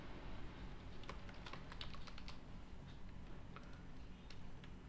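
Typing on a computer keyboard during a C++ programming session, a quiet, steady patter of key clicks with irregular rhythm, close by and faint, with no talking.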